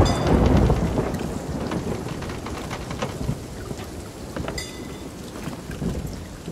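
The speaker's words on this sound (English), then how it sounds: "We're in a storm on this one" Stormy sea in the Sea of Thieves game: heavy rain hammering on a ship with rumbling thunder and sloshing waves, a loud dense wash that swells at the start and stays steady throughout, no talking.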